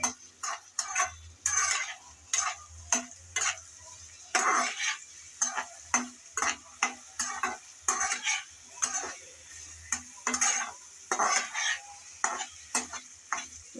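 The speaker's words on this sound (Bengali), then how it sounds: "এখন গরম তেলে দিয়ে দেব চিংড়িগুলো চিংড়িগুলো দিয়ে নেড়ে চেড়ে ভালোভাবে বেজে নিতে হবে" Prawns frying in hot mustard oil in a pan, stirred steadily with a utensil, giving a continuous close sizzle broken by repeated scraping and clinking strokes, with no voices.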